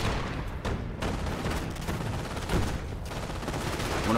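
Battlefield gunfire and sniper shots in Company of Heroes, a dense steady wash of distant shots and thuds with a few sharper cracks standing out, continuous throughout.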